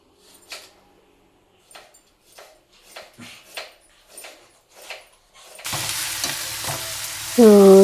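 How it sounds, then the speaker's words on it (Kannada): Scattered dry rattles and scrapes at first, then a loud steady sizzle of peanuts roasting in a hot pan with occasional stirring. "ನಾನು ಕಡಲೆ ಬೀಜನ ಹುರಿದು ಎತ್ತಿಟ್ಕೊಂಡಿರ್ತೀನಿ"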